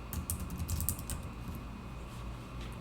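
Keys tapped on a computer keyboard in a quick, close burst of clicks that then thins out, with no talking.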